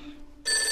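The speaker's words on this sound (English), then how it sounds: "Answer the phone before it wakes up Grandad Tumble." Telephone ringing indoors, a bright electronic ring that starts abruptly after a brief quiet moment and holds steady and fairly loud.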